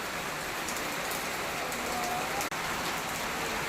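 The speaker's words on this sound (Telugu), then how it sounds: "మళ్ళీ వాన పడుతూనే ఉన్నది" Rain falls steadily and heavily, a dense, even patter with scattered nearby drops, continuous throughout apart from one brief break, with no voices.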